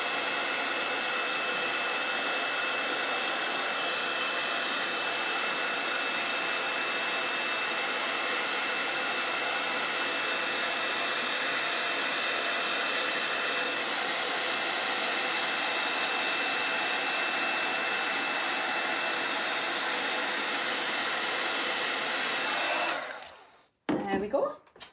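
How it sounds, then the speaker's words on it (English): A handheld heat gun blows a loud, steady rushing hiss at close range while melting embossing powder on a poinsettia card, holding constant for over twenty seconds before cutting off abruptly, followed by a few brief handling noises. "holding your heat gun still, you're just going to wait for that embossing powder to melt and change"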